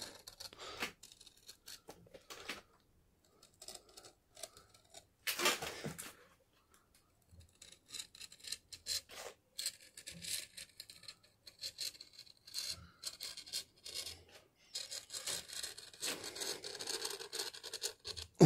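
A knife cutting a groove into the edge of a shoe sole along a marked line for hand stitching gives quiet, intermittent scraping and slicing strokes, with a louder burst partway through and a busier run of cuts near the end.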